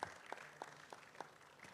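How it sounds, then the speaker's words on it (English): Scattered hand claps from an audience at an International Women's Day forum, faint and fairly far off, with distinct claps landing in a loose, evenly spaced rhythm. "A round of applause for her as well."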